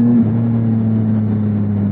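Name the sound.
Triumph Tiger 1050 motorcycle engine accelerating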